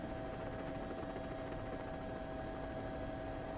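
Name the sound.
helicopter flying over rally stage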